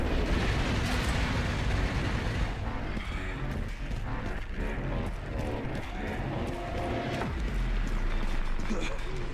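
Mortar explosions hit in the video game Resident Evil Requiem as a loud, rumbling stream of booms and crashes, with dense bursts repeating across the clip and voices talking over them.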